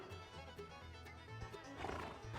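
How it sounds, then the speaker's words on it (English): Horse in a rodeo arena during a rope horse futurity, a 5-year-old gelding at a team roping event; faint snorts and hoof sounds sit under a steady, distant crowd and arena ambience. "This is your multi-event horse right here, friends."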